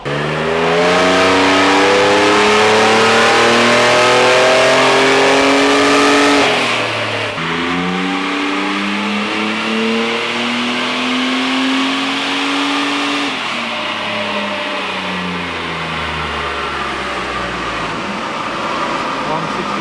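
A loud supercharged Toyota Hilux pickup engine revs hard on a dyno in long sweeping pulls, pitch climbing and dropping over several runs with a steady mechanical whine underneath.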